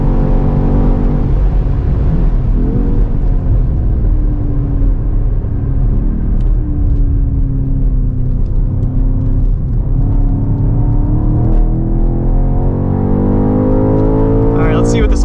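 A 2024 BMW X6 M Competition engine roars continuously from inside the cabin during a fast lap of a race track, its pitch rising and falling through acceleration and shifts, while people talk over it.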